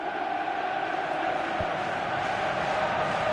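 A large stadium crowd roars continuously during a football video game match sensing a comeback, a loud, dense wall of cheering with no break.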